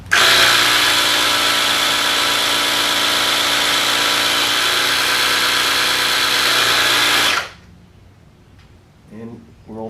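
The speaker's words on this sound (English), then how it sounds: "And then you just turn the compressor on." An EverStart jump starter with built-in air compressor inflating a hand truck tire, a loud steady motor drone running for about seven seconds before cutting off abruptly, followed by quieter handling sounds.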